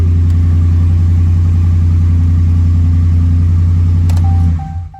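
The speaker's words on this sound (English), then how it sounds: "Sounds so good too. MagnaFlow 18-inch exhaust." A loud, deep Dodge Ram Hemi truck engine rumbles steadily through a MagnaFlow 18-inch muffler, then cuts out abruptly near the end.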